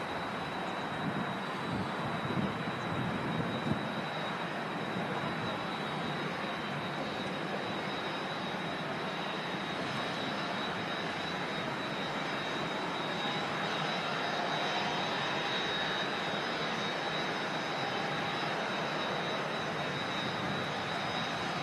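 A Cessna Citation CJ2 business jet in all-black livery at Manchester Airport gives a steady, broad jet roar with a faint high whine, sustained at an even level throughout without voices.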